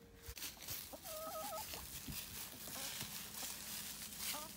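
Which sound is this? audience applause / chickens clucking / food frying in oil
chickens clucking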